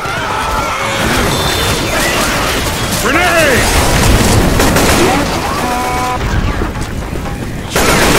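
A grenade blast in the zombie shooter Left 4 Dead: a heavy, rumbling boom builds amid sustained chaotic combat noise and growling, loud and close throughout.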